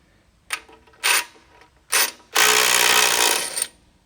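Bolts being undone on a quick connect coupler attachment for swapping buckets, heard as three short sharp ratcheting clicks followed by a longer, louder continuous rattling burst, close to the microphone.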